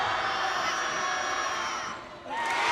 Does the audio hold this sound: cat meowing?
no